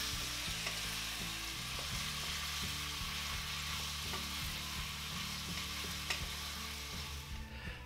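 Chicken gizzards with garlic fry steadily in a pan, a dense continuous sizzle with faint scrapes and small clinks, close and even throughout with no talk.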